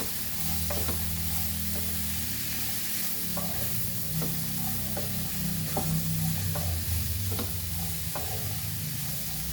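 Cluster beans and cut vegetables cook on a low flame with a soft steady sizzle and a low crackle, under repeated light stirring clicks and scrapes of a spoon in the pan.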